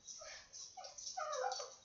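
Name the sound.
collie dog barking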